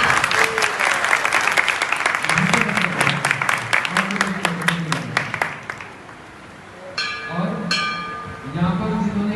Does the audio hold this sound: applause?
yes